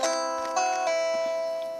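A melody of bright, tonal, sustained notes from a phone music app plays a song on Android, with a few soft note onsets ringing into a held tone, no voices.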